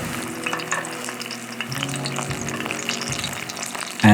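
Steady crackling sizzle of breaded pickles frying in hot oil, with occasional louder pops and a brief clatter at the end.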